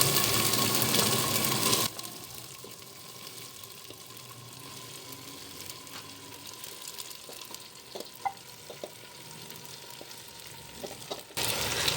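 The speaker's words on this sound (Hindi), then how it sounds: "अदरक लहसुन और गोश्त को अच्छे से फ्राई कर लेना है तेज़ आंच करके।" Meat fries with ginger and garlic over high heat in a clay pot, a steady sizzle with occasional stirring clicks. The sizzle is loud at the start and end and quieter in between.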